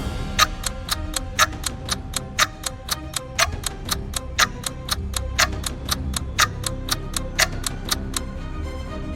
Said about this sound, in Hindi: वही रुकी घड़ी अचानक चल पड़ी